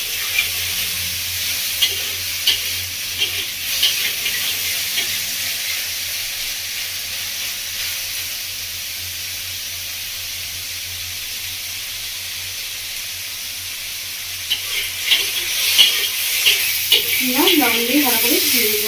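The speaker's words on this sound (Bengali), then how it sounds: "লবণটা দিয়ে আরও 2 মিনিট মতো কষিয়ে নেব।" Pineapple chutney sautéing in a pan just after salt goes in, Bengali village style: a steady, soft sizzling hiss runs throughout, with light scraping stirs, and a voice comes in near the end.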